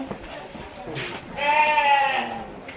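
Sheep and goats on a farm give a single drawn-out bleat midway, moderately near, over a steady background of livestock noise and a talking voice.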